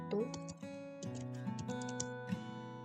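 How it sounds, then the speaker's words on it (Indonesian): Keystrokes tapped out on a computer keyboard while entering a for-loop in code, a steady run of close, light clicks over a faint tonal background hum, with no talking. "Lalu kita ketik for A sama dengan 1"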